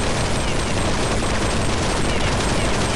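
Continuous, loud gunfire from Counter-Strike 1.6 in a zombie base builder match, a dense unbroken wash of shots filling the whole stretch.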